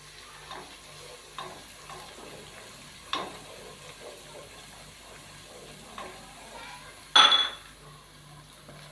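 Whole cumin, bay leaves and a cinnamon stick sizzling in hot oil in a pot, a steady soft frying hiss punctuated by occasional stirring clinks and one louder spoon-on-pan clatter.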